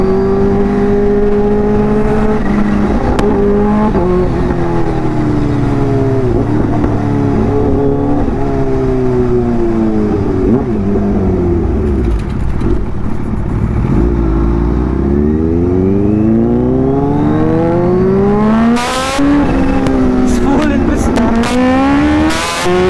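A Kawasaki Ninja H2 supercharged motorcycle revs loudly and repeatedly, its pitch sweeping up and down as the supercharger spools, with a high whine rising above the engine note and people talking nearby.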